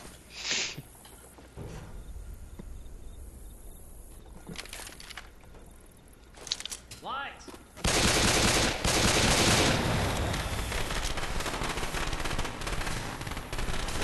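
Sniper gunfire in the video game Left 4 Dead 2 sounds as scattered sharp shots early on, then a loud, dense sustained burst of shooting and game noise takes over for the second half.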